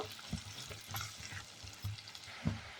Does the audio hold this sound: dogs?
no